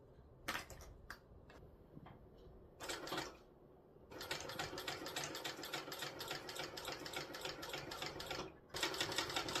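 A sewing machine stitches down both sides of a tote bag, with short bursts at first and then a long continuous run of rapid mechanical clatter, briefly pausing before starting again, close and fairly loud.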